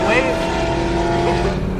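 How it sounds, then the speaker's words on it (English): A widebody BMW M3 E92's exhaust rumbles loudly and steadily nearby, with a deep, throaty drone. "it's the best sounding E92 exhaust"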